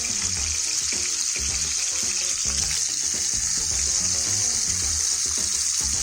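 Chicken kebabs sizzle in a pan alongside onions, chilies and tomatoes, a loud, steady crackling fry with no pauses and faint clinks of cookware underneath.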